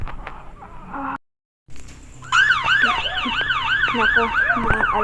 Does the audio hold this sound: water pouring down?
no